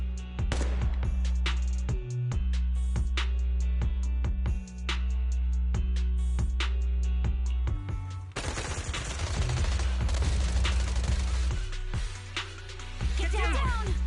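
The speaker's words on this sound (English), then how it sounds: "Gunfire? This pattern. Suppressive marching fire." Suppressive marching gunfire in the game Zenless Zone Zero, rapid bursts of automatic shots repeating in a steady rhythm, loud and close over a low rumbling score, with a dense burst of fire midway.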